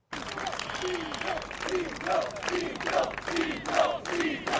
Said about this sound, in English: Thousands cheered as they lined the procession route from Berlusconi's villa to Milan's famous Duomo Cathedral